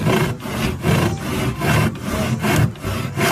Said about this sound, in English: Now let's take a look at a real saw in motion.